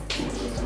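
Water drains out of a toilet cistern during a flush valve repair. It makes a steady, close rushing wash that runs for the whole short stretch without a break.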